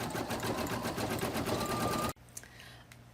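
An embroidery sewing machine stitching light red thread, a close, steady rapid whirring hum for about two seconds that then stops abruptly, leaving quiet room noise.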